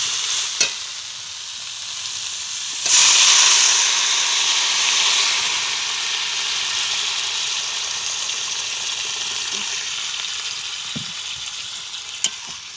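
Water poured into a hot pan of fried cauliflower sets off a sudden loud surge of hissing steam, which settles into a steady sizzle that carries on to the end with a few light clinks.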